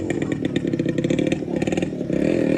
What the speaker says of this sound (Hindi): बाइक राउंड ज़्यादा ले रही है